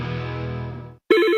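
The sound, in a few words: telephone bell ringing in an advert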